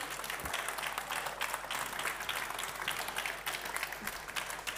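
Sustained applause from an audience at an agricultural innovation award ceremony, steady dense clapping filling the hall throughout, with no speech over it.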